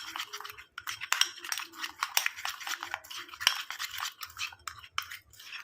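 Gram flour is stirred into a runny paste in a bowl, a spoon scraping and clinking against the sides in quick, uneven strokes, close and fairly soft, with no voices.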